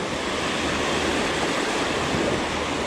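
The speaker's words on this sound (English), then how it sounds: "A boat just went by. That's why we got these big waves right now." Wake waves from a passing boat wash against the bank of the Mississippi River in a steady, broad rushing surge that stays loud and close throughout, with no voices.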